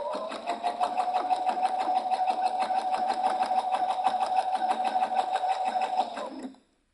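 A sewing machine runs steadily, stitching two pieces of fabric fed along the A foot, with a fast even mechanical rattle that stays close and loud before stopping abruptly near the end.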